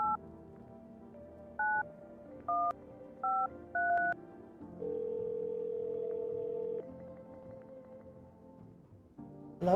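A phone number is dialed in a video game, with a run of short touch-tone beeps in an uneven rhythm followed by a longer steady ringing tone, clear and close over a faint background.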